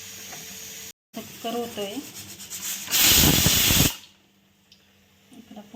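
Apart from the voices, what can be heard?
puris frying in oil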